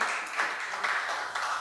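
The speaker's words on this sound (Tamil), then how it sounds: "இத சொன்ன உடனே கையை தட்டி அல்லேலூயா சொன்னாங்க" A church congregation claps hands at a Sunday service after a point in the sermon, a brief, moderately loud burst of many hands clapping together.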